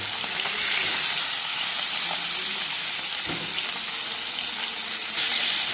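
Fish fries in a pan of oil, giving a loud, dense, continuous sizzle up close with a few brief spatters and shifts as pieces are moved.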